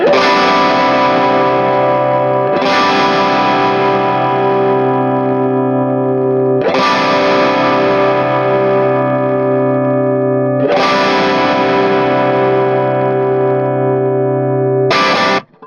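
Four loud, distorted electric guitar chords through a custom Denis Cornell tube amp are strummed and left to ring for several seconds each, full and sustained, with no talking.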